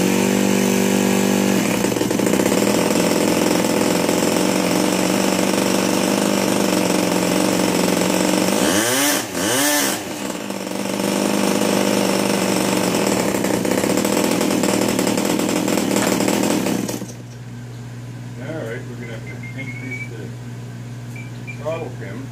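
An Enya 60 model glow engine runs at a loud, steady high-pitched buzz for most of the stretch, with a brief rev dip midway, then cuts out abruptly, leaving quieter background noise.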